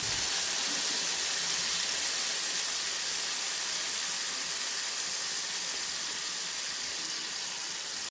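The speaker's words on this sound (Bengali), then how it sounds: "দেখতেই পাচ্ছ খুব ভালো মতো এটা ফুটতে শুরু করে গেছে" Mustard-paste curry with a little water bubbling hard in a pan for hilsa, a dense, even hiss of boiling that holds steady and close throughout, with no voices.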